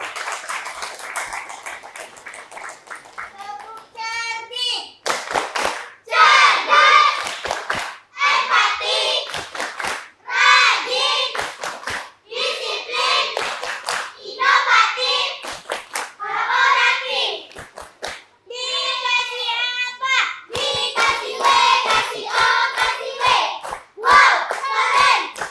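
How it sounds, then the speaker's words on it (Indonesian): Schoolchildren from SDN 3 Senaung in Muaro Jambi clap in repeated bursts of close, crisp handclaps, with children's voices mixed in across a long stretch of applause. "Boleh dong tepuk tangannya yang lebih meriah lagi untuk SDN 3 Senaung Kabupaten Muaro Jambi."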